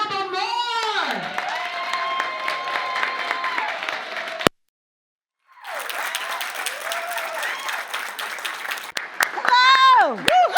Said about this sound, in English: Please, an applause for Miss Melba Moore.